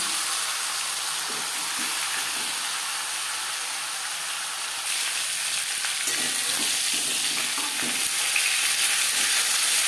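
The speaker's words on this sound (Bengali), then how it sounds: "যেহেতু আমার কড়াইটা বড়, তাই আমি একবারেই ভেজে নিলাম" Fish heads frying in hot oil in a large wok, a steady loud high hiss of sizzling with occasional soft clinks and scrapes of a spatula, no voices.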